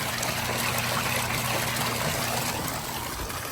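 Water pulled in by a pond filter pump in an Intex pool fish pond, a steady rushing trickle that carries on loud and unbroken throughout with no talk.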